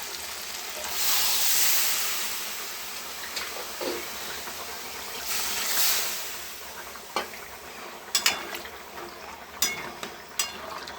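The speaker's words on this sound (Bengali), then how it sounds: "কষা হয়ে গেছে, এবার জল দিয়ে দেবো।" Water poured into a pan of sautéed spices, a broad steady sizzle and hiss that swells at the start and again midway, with several sharp crackles and pops near the end.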